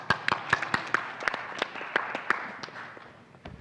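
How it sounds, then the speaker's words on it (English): A sparse audience at a venture capital summit panel claps, with distinct separate handclaps scattered irregularly and fading out over a few seconds. "Applause"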